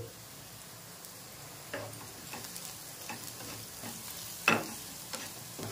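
Fried onions with turmeric, chili powder, coriander powder, chaat masala and salt are stirred in a pan for samosa filling, giving a soft, faint sizzle with sparse spoon scrapes and a sharper knock near the end.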